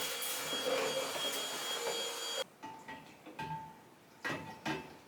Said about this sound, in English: Oh, I need to vacuum clean in there.